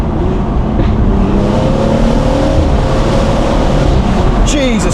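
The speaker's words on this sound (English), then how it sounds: "You can really hear the turbo noise now." A BMW M235i fitted with a sports cat roars loudly and steadily at close range, a high turbo whistle rising and falling over the deep exhaust drone.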